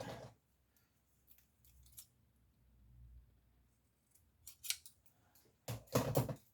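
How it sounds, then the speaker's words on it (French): Scissors snip a small piece from a recycled material during a craft project, with a few faint early cuts and then louder, close snips toward the end, set against a quiet background. "je vais couper un petit bout quand même"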